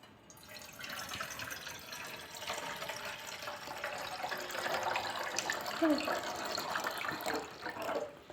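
Water pours into a container for homemade lime juice, a steady, fairly quiet trickling and splashing that lasts for several seconds.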